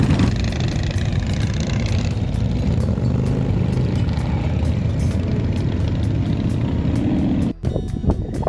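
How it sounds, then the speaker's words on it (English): Several motorcycle engines rumble near the Badlands while the Sturgis rally goes on nearby, a loud, dense and continuous roar with clicks over it, cutting off briefly near the end. "I think we have a lot of motorcycles here"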